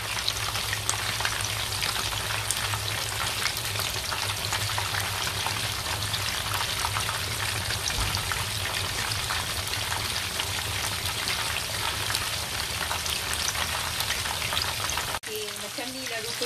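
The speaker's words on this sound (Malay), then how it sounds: "Ikan ni kita goreng" Tenggiri (mackerel) pieces frying in hot oil give a steady, dense crackling hiss that runs unbroken for most of the stretch, then cuts off sharply near the end.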